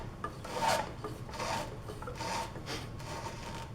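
Rope rasping and rubbing as it is pulled over and around a wooden dowel on a homemade catapult, in several steady drawn-out strokes, close and moderately loud with no talking.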